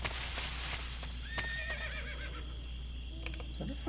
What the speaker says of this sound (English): That was a horse, right?